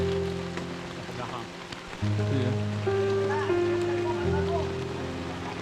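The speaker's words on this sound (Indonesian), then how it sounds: "Gerimis yang sempat berpamitan kini menjelma jadi hujan deras, memukul bumi tanpa belas kasihan" Heavy rain beats down on a mountain trail up Mount Cikuray in West Java, a continuous watery rush under a voice speaking and sustained musical tones.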